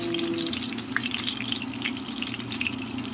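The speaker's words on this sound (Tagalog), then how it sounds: "Naglagay na din ako ng olive oil sa aking pan. Ayan guys. Prituhin natin siya ng bahagya." Eggplant frying in olive oil in a pan, giving a steady, close, continuous sizzle with fine crackling throughout and no talking.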